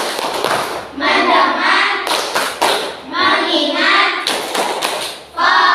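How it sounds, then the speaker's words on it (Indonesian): Classroom clapping game (tepuk fokus) led by a teacher: bursts of sharp group claps alternate with chanted words from the class in a steady call-and-response rhythm. "Coba kita tepuk fokus dulu ya, supaya lebih konsentrasi."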